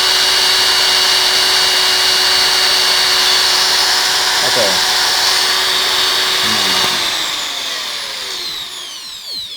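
A Hilda die grinder runs at a steady high-pitched whine at its top speed setting, loud and close, winding down over the last couple of seconds; a voice speaks briefly over it.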